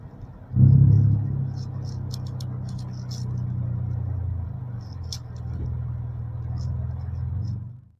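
A manual car driven slowly in low gear during a driving lesson, its engine giving a steady low rumble for the whole stretch, with a slight swell near the start and faint higher ticks and clicks above.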